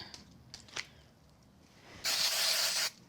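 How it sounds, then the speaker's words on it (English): A few small clicks and taps, then a sustained, loud hiss of an aerosol spray glue can lasting under a second, stopping abruptly. "I'm going to add those with some spray glue"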